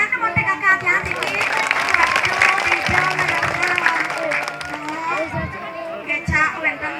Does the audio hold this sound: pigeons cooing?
no